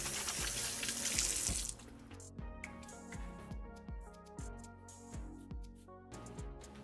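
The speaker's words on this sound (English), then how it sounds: "after washing my hands again" Water runs from a tap into a sink while hands are washed, a steady loud splash at first, then quieter with irregular wet rubbing, splashing and drips, no talking.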